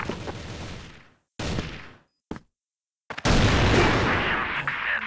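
AWP sniper rifle shots and gunfire in a competitive video game match, with sharp, loud cracks split by sudden silent gaps, then a dense stretch of shooting.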